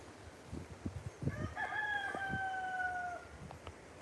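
A rooster crows once in a long drawn-out call, preceded by soft clucks and pecking sounds from a tame chicken nearby, close and fairly clear.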